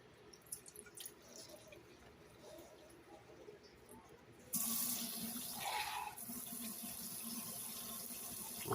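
Tap water runs into a strainer holding tomato seeds, starting as quiet dribbling with small clinks, then opening into a loud steady rush that sprays on the mesh and continues to the end.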